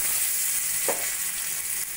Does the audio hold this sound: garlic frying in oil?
yes